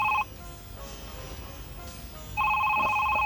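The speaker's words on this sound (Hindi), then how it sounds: "घंटी सुनकर समझ गए कि ये फोन इनका है।" A telephone bell rings in two bursts, a bright electronic trill at the start and again near the end, with a quiet room tone between the rings.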